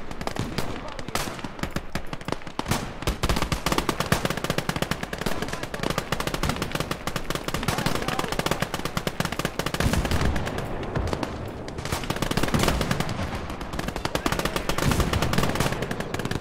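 Sustained machine gun fire in the World War II style video game Last Grenadier 1946, dense rapid bursts continuing loud and close with a brief lull, a voice faintly under the gunfire.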